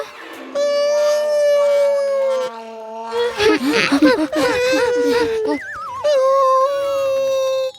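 A human voice imitates a dog, holding a long howl, then breaking into a rapid run of whimpering yelps and wavering cries, and ending with another drawn-out howl, loud and close.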